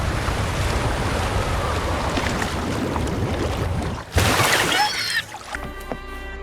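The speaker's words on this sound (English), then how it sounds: "Another waterfall." Another waterfall in the video game Wuthering Waves pours as a continuous broadband rush, with a sharp burst of sound partway through before the roar cuts away to quieter game ambience.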